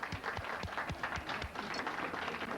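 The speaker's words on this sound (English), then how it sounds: "Please give her a round of applause." A small audience claps for a woman being introduced at a talk on esoteric health and healing, a brief, fairly faint patter of hand claps with some distinct individual claps.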